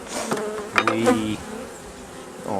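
Honey bees buzz close by during a hive inspection, a steady droning hum with a few louder swells as insects pass near, heard alone with no talking.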